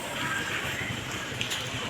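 Heavy rain falls steadily as a dense, continuous hiss with no breaks, recorded outdoors during a downpour.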